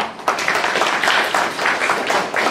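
A conference audience applauds steadily, hands clapping in a dense, even wash that swells in slight pulses for a few seconds.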